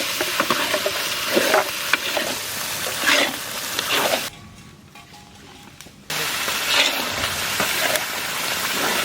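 Ground cumin, coriander and dried chilli paste is stirred and fried in a large village cooking pot, with loud scraping strokes over sizzling oil and a short quieter pause midway.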